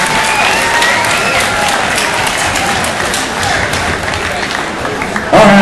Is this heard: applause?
yes